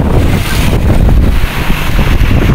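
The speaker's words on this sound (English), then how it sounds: "This is in front of the sea, so it's very scary because the wind is strong and the tide is, the wave is also getting stronger." Strong wind buffeting the microphone beside the sea during Typhoon Rai, with heavy surf crashing in a loud, dense roar and no voices.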